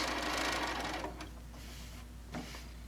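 Close, steady whirring of a sewing machine top stitching along a pocket edge on an apron, strongest at first and then easing into a lower, even run with small clicks.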